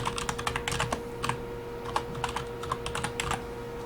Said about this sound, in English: So I'm just going to type for the marketing project